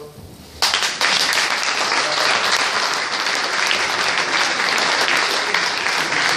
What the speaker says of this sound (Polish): I wielkie brawa dla Was za to.